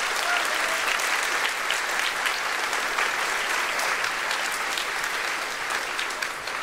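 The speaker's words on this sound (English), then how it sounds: "Let's give them another round of applause." An audience at a school Grandparents Day event applauds, a dense, steady wash of clapping that stays loud and even throughout, with no voices standing out.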